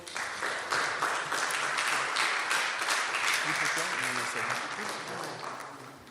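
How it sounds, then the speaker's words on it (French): A church congregation claps and cheers to welcome Paul, a sustained wash of applause with some voices mixed in, fading slightly toward the end. "Est-ce qu'on peut accueillir Paul par des acclamations?"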